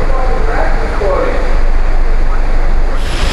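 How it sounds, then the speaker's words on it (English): Loud, steady roar of howling hurricane wind from Hurricane Jeanne's eyewall in eastern Florida, with heavy rumbling buffeting, continuous throughout, with a faint voice partly buried in the noise. "It's getting windy and it's getting louder again."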